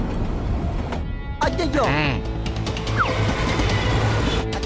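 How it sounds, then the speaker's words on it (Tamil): A train approaches on a railway, a low rumble and hiss under close, loud talk in Tamil, with a sudden exclamation and shifting mechanical tones from the passing rail traffic. "ட்ரெயின் வரது தெரியுது சார்"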